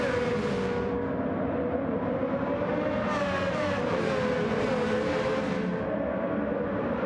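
A race car in a Gran Turismo 7 online lobby race roars at high revs with its engine pitch rising and falling through gear changes, a loud, continuous in-car drone with no talking.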